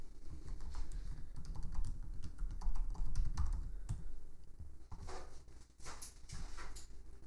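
Login credentials being typed on a computer keyboard, a steady run of close, crisp keystrokes with brief pauses between bursts, over low background rumble.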